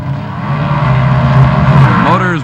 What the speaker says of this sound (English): Motors brought up the RPMs and they leave the line together.